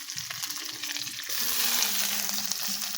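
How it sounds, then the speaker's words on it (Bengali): Dried fish soaked in water frying in a pan with onion and five-spice seeds, a steady close sizzle that swells louder halfway through and keeps crackling with no talk. "এই পেঁয়াজ আর মাছগুলো আমি ভালো করে ভেজে নেব।"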